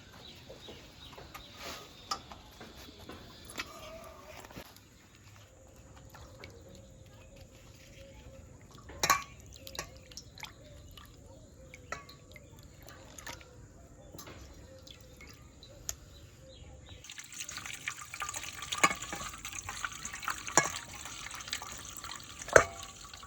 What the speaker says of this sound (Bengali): এখন মাছের ডিমটা আগে ধুয়ে নেবো